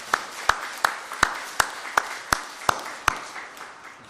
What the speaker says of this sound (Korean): 하나님께 영광의 박수를 보내드립시다